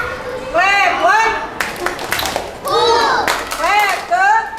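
Children clapping hands in a classroom exercise, a few sharp claps mixed with lively kid chatter and voices, close and fairly loud.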